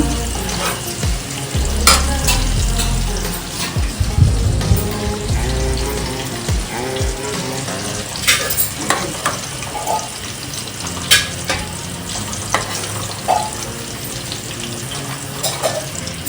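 A ground paste from the mixer drops into hot oil for a stuffed bitter gourd dish, setting off a sizzling hiss with repeated metal spoon clinks and pan scrapes over several seconds, no speech.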